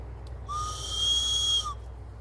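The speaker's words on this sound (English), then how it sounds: "Also in here, I have a whistle. It's a wooden whistle, made it myself." A homemade wooden whistle gives a single steady, clear tone lasting about a second, close and fairly loud, over a faint background hiss.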